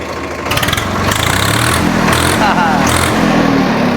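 A nearly new tractor engine starts up and settles into a steady, loud rumbling idle close by, with a voice speaking over it.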